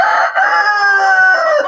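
A rooster on a new farm lets out a single loud, close cock-a-doodle-doo, one sustained crow heard alone.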